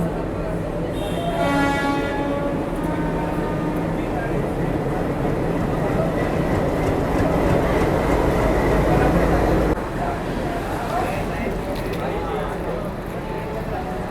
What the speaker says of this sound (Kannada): ಆರು 35ಕ್ಕೆ ಬಂತು ನೋಡ್ರಿ ನಮ್ಮ ಟ್ರೈನ್.